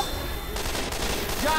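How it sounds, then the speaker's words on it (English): Dense, continuous gunfire from the co-op zombie shooter Left 4 Dead, played with Christmas mods: a loud, sustained rattle of rapid shots with no pause through the short burst. "You are shooting me."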